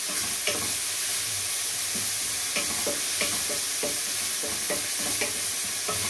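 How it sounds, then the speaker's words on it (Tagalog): Chopped onion dropped into a pan of browned garlic for a beef ragout sizzles steadily and loudly, with intermittent scraping clicks of a stirring spoon throughout. "Nag-brown na ang bawang. Saka isunod ang sibuyas."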